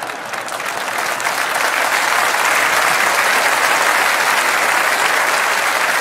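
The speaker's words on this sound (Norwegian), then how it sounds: "en velfortjent applaus til alle dommerne der ute" A large audience at the Norwegian sports gala Idrettsgallaen 2014 gives the referees loud, sustained applause, a dense wash of clapping that swells in the first second and holds steady to the end.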